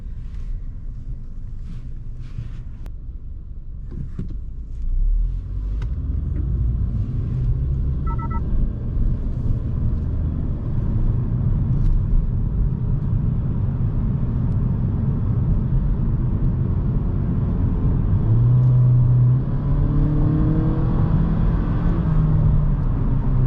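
A 2022 Honda Civic Sport accelerating from 20 to 50 mph, its engine note a low rumble that rises steadily under road and wind noise inside the cabin, with a few soft clicks early on.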